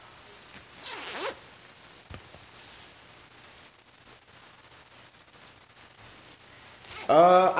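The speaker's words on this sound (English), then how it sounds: "Let me zip it up." A jacket zipper is pulled, with a quick rasping zip near the start and another brisk, louder zip at the end, separated by quiet rustling and faint handling noise.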